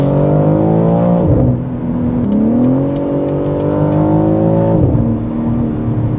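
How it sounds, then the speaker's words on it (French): A loud six-cylinder engine of a BMW M3 Touring G81 drones and revs close by at night, pitch climbing and dropping with gear changes, a steady strong growl throughout. "Il est sonore ce moteur 6 cylindres."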